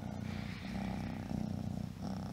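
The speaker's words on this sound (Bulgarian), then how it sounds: "Ето кой се появи. Котката на съседите." A neighbours' cat purrs up close, a low rumbling purr pulsing in steady breaths under a quiet background.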